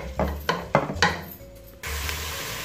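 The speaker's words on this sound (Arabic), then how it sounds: "نحط له البصل المفروم نقليوه شويه" Minced onion frying in oil in a pan for lasagna Bolognese: a few stirring strokes over a low sizzle, then a steady, louder hiss of frying that fills the rest of the clip.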